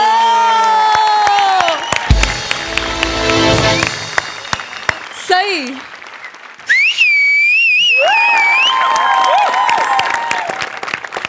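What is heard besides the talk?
audience applause and cheering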